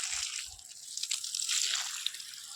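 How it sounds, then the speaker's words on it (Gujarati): Tap water running for watering plants in corners of a home, a steady close broadband hiss with faint dribbling, lasting throughout with no talk. "અત્યારે આપણે પાણી ચાલુ કરી દીધું છે"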